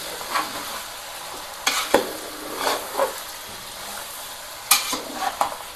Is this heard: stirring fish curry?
yes